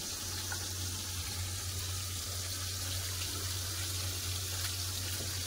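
Fish frying in a pan for a mustard-poppy seed fish curry, a steady loud hiss and crackle of hot oil running continuously with a low hum beneath, no voices.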